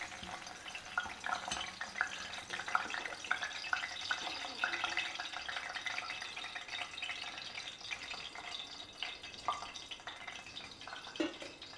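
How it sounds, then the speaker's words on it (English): One sprig of curry leaves frying in hot oil, a steady bright crackle and fine sizzle with scattered drips and pops running throughout, fairly close, with no talk over it. "Finally, I'll just fry one sprig of curry leaves in the hot oil."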